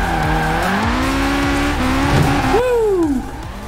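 Nissan Silvia drifting with clutch kicks in Forza Horizon 4, engine revving in rising and falling sweeps as the tires squeal through a slide, loud and close with no talk.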